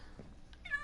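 A pet cat gives a single short, quiet meow near the end of a brief, otherwise hushed moment indoors.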